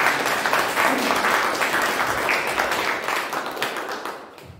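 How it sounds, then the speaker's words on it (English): An audience at a Toastmasters impromptu speech contest claps in a sustained, dense round of applause that stays loud and steady before tapering off at the very end. "Let's have a huge round of applause for all"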